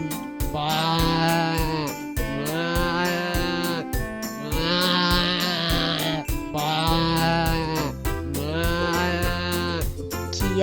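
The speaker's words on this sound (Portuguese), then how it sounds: "Essa é a cabra." A goat bleats five times in loud, wavering cries at a steady pace over background music with a regular beat, in a children's animal-sounds lesson.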